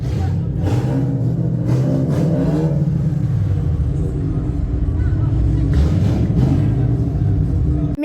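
Cars revving at a Saudi wedding celebration, a loud rumbling engine drone rising and falling over several seconds, with voices talking nearby.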